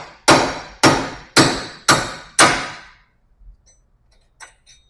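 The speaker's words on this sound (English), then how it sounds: "get a hammer and hit it right here" Five hard, evenly spaced hammer blows strike a wheel stud to drive it out, each clang ringing briefly before the next. Faint small clicks and taps follow.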